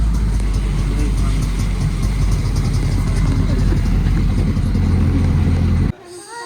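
An auto rickshaw engine drones loudly and steadily from inside the cabin during a ride toward Karjat, a continuous low rumble that cuts off abruptly near the end, with passengers' voices mixed in.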